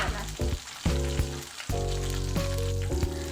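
Tomato sautéing in a hot pan for beans aloo masala, a steady close sizzle and crackle of frying throughout, with no talking.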